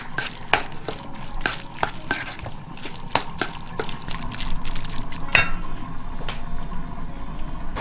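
A fish-spiced stuffing for Moroccan briouats is stirred in a bowl with a steady, wet mixing sound. Irregular sharp taps of the utensil punctuate it, close and fairly loud with no talk.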